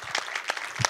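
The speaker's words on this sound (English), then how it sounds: "Let's give a round of applause for the guys." Audience clapping for a game-publishing panel, a short burst of scattered hand claps at close range with an uneven rhythm, no voices over it.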